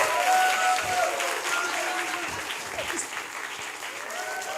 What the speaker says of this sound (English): clap more and louder for the B-roll